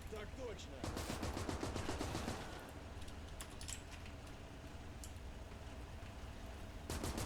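Rapid gunfire crackles in Gates of Hell: Ostfront as partisans rush German positions and are cut down, bursts of machine gun fire and rifle shots at moderate distance, with someone talking over it.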